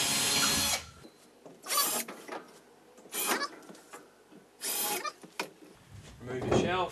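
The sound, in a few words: power drill drilling a hole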